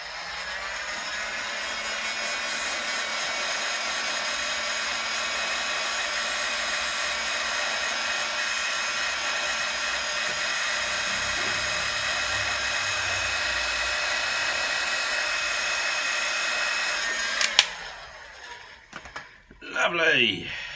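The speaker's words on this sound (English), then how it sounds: "put a bit of heat shrink on it" A heat gun blows steadily at an even pitch to shrink heat-shrink tubing over a crimped wire on a 1964 Mk1 Mini, then cuts off near the end, leaving handling noises.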